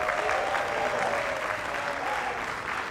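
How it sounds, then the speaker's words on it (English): Sustained applause from a crowd at an outdoor political rally in Marcus Garvey Park, a fairly distant, even wash of many hands clapping without pause. "let's give our champions a real big hand clap"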